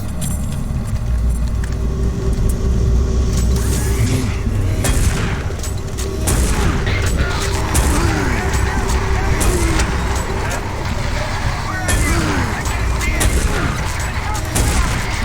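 Shotgun blasts in the Doom 3 video game on Switch, several booming shots spread across a busy mix of game noise and sustained rumble, with a voice speaking at times.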